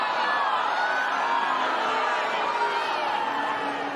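Loud, dense crowd noise from tennis spectators reacting to Just Stop Oil protesters throwing orange confetti and jigsaw pieces onto the court, a sustained roar of booing and shouting that holds steady throughout.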